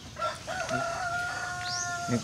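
A Rhode Island and Shamo cross rooster crows once on a poultry farm, a clear drawn-out call with a rising end, while hens cluck faintly nearby.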